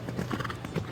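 Hooves of a show jumper clip-clop briefly during a jumping round at an FEI World Cup qualifier in Guadalajara, a short burst of close, rhythmic footfalls.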